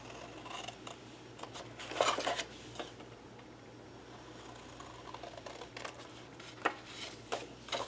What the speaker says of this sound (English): You're going to cut those 2 bottom tabs out.